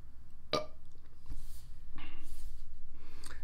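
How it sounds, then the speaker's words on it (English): After sipping a protein shake, a person gives one short, abrupt burp close by, followed by quiet breathy sounds over a low background hum. "I got a gas bubble, and I burped"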